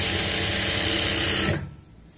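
A sewing machine runs a fast continuous stitch along a half-inch seam margin on palazzo trousers fabric, loud and close, then cuts off abruptly near the end.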